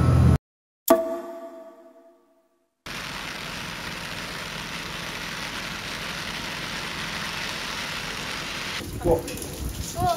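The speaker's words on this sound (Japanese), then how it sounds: "すごい土砂降り。" Heavy downpour of rain heard from inside a used camper van in Hokkaido, a steady, dense hiss that starts after a short gap and continues unbroken, with brief talk at the start and near the end.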